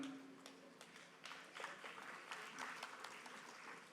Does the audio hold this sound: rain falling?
no